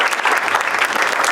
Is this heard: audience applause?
yes